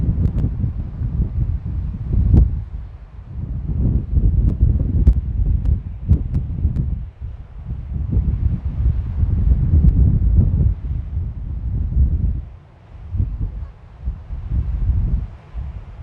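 Wind buffets an outdoor microphone in a scenic spot, a loud low rumbling roar that swells and fades in gusts with brief lulls and occasional sharp knocks.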